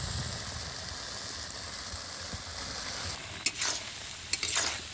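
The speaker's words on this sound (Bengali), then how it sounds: "বন্ধুরা দেখুন কিরম ফুটছে, শুধু দেখুন টকবক টকবক করে দেখুন" A cauliflower, potato and pea curry boils vigorously in a pan, making a dense, continuous bubbling and frothing noise up close with a few sharper pops near the end.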